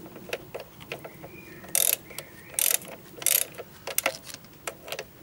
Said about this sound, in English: Loosen the tensioner pulley lower bolt.